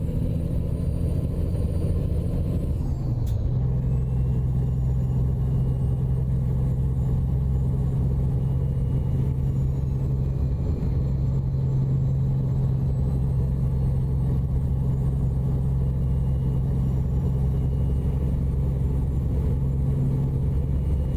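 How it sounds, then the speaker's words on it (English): A Volvo VNL 2018 Globetrotter XL truck in American Truck Simulator drives along with a constant deep engine drone and road rumble, a brief shift near the start, then a steady unbroken hum throughout. "We're in the Volvo VNL 2018 Globetrotter XL."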